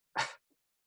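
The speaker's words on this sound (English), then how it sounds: "I'm gonna sneeze." A single sharp sneeze, close and fairly loud, followed by a faint brief sniff and then silence.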